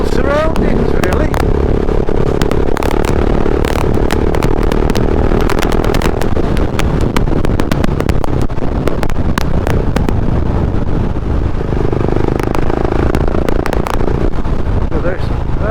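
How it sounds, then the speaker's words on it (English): A Husqvarna 701 motorcycle rides along an empty fell road, its engine a loud, close, continuous drone with pitch rising and falling, heavy wind buffeting the microphone throughout and a rider talking over it. "out on the Husqvarna 701, it's just the ideal bike for the ideal surroundings, really."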